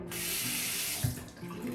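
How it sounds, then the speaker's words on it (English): Hot water runs from a tap over a safety razor being rinsed, a loud steady rush with splashing changes, close by and alone. "Right, I've washed the razor under hot water"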